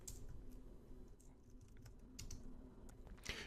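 Quick, irregular keystrokes clatter on a computer keyboard as a Linux sudo command is typed, faint and close, with no voice over the tapping.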